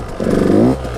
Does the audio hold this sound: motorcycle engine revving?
yes